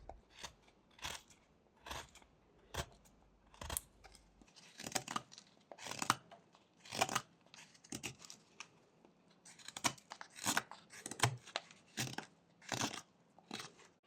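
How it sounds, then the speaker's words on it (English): Knife whittling a small wooden rabbit from a 1x1 block, with short, dry repeated V-cuts that sound like crisp scraping slices in steady bursts, close and fairly quiet, without any talking. "These two V-cuts need to be extended to the sides to make a rounder"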